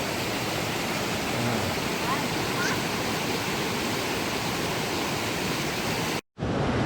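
Tat waterfall in Xieng Khouang province, Laos, roars as a steady, dense wash of falling water, loud and close throughout, with a brief dropout near the end.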